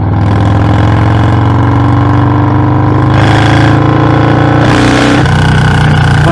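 A Harley-Davidson FXLRS with a Milwaukee-Eight 117 engine is ridden on the road: a loud, close, steady V-twin rumble with shifting pitch as the rider eases off and rolls on the throttle, plus wind rush.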